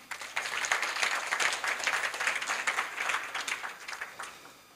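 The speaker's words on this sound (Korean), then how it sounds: "수호의 박지수 대표를 박수로 맞아주시기 바랍니다." An audience at a Korea University business school event applauds to welcome a startup's chief executive to the stage, with steady, moderately distant clapping that swells and then tapers off.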